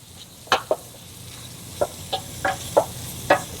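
Meat searing in a pot for Hungarian goulash: a low, steady sizzle with a handful of sharp pops and utensil knocks scattered across a few seconds, fairly quiet and close.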